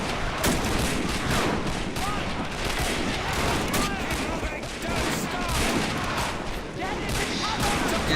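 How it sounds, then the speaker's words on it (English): Rifle and sniper fire crackle in a dense, continuous fusillade during a forest battle in the video game Men of War: Assault Squad 2, with sharp shots, distant booms and a voice talking underneath. "So it looks like the snipers are actually opening fire"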